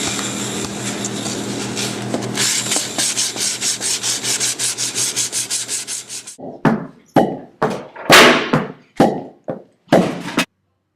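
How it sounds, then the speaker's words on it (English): Wood corners are rubbed with 60 grit sandpaper in rapid rhythmic back-and-forth strokes, then slower, separate scrapes with short pauses between them, close and clear. "You just want to take some 60 grit sandpaper and just"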